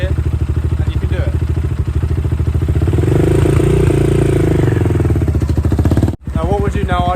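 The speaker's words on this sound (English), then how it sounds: "I'll just do it a few times so you can learn the movement of the bike and also how the revs work" A 10ten 250cc dirt bike engine revs in first gear, a loud and close rapid putter that swells into a sustained high rev, cuts off abruptly, then returns briefly.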